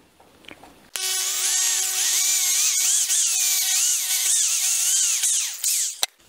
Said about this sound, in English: And try to drill square.